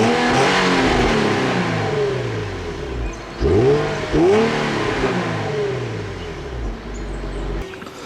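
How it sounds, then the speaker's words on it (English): A 2007 Infiniti M35x with a 3.5-liter V6 revs in place, its exhaust climbing and falling in repeated sweeps with two sharp blips in the middle, close and fairly loud, then settling back to idle. "let me show you guys an exhaust clip really quick"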